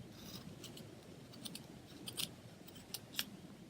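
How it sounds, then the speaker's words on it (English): Scissors trim a piece of ribbon on a stamped paper craft card, giving a few faint crisp snips scattered over a quiet background with no talking. "I'm going to go ahead and trim that ribbon down"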